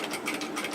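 Domestic sewing machine stitching along an asymmetric spliced hem of a cowl neck top, a quick steady mechanical whir with a faint rhythmic pulse, close and alone.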